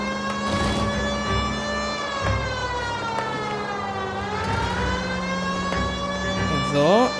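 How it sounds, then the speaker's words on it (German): A police car siren in the game L.A. Noire wails loud and close, sweeping up and down in long continuous rising and falling tones. Engine noise and street sounds run beneath it, and a short sharper whoop comes near the end. "Somit fahren wir mit Tatütata."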